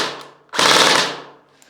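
Metal Wells MP5 airsoft gun fitted with a metal suppressor and metal inner and outer barrels fires a single loud, dense burst of about half a second, then the sound tails away, with no talk.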